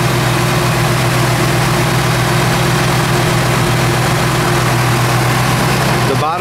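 A Chevrolet 350 crate V8 with Edelbrock street performer heads and carburetor idles in a 1972 Nova, giving a steady, loud, low rumbling hum heard up close without pause.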